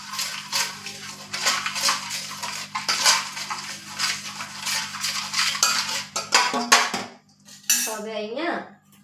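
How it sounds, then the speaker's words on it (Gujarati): Masala bhakri ingredients mixed with salt in a bowl, a spoon rapidly clinking and scraping against the bowl in busy bursts, ending with a few separate knocks. "મીઠું એડ કરીને પણ આપણે બરાબર ફરીથી બધું મિક્સ કરી લેશું"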